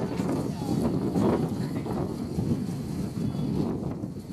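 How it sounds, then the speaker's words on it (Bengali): Steady roaring storm wind carrying dust buffets the microphone throughout, a continuous rushing gust with no clear pauses. "এত বড় ঝড় আসতেছে, মানুষ দাঁড়াতে পারতেছে না কোথাও"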